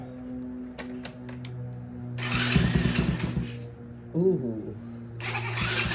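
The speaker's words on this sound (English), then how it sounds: "110cc automatic. She's ready to go. Crank her up." A cold 110cc automatic mini ATV engine cranks with a few sharp clicks, then catches and sputters to life in bursts, with a person exclaiming nearby.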